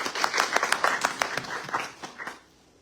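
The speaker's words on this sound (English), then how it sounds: "Let's give them one more round of applause." A forum audience gives its panelists another round of applause, a few seconds of distinct, fairly close hand claps that thin out and stop, leaving near silence.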